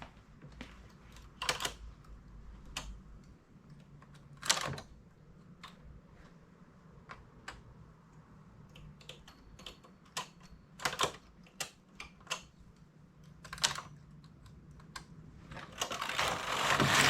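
A domestic knitting machine with a ribber is worked by hand for decreases and needle transfers. It gives sporadic sharp clicks and taps with quiet pauses between, ending in a louder rushing, clattering pass.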